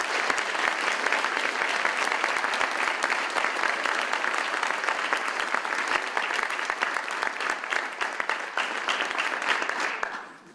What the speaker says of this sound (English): Please join me in once again applauding all of our National Honor Society members.